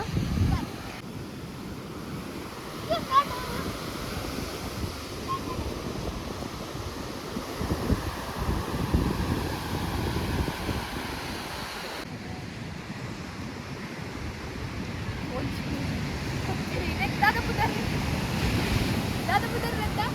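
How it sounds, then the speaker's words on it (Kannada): Strong wind gusts across the microphone at the seashore in Yermal, Karnataka, with steady surf and waves washing underneath throughout, loud and continuous. "ಗಾಳಿ ಎಷ್ಟು ಹೋಗಿ ಬರ್ಕೊಂಡತ್ತ."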